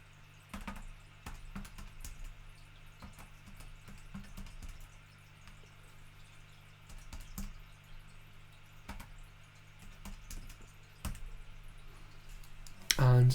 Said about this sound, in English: I will type that into my calculator.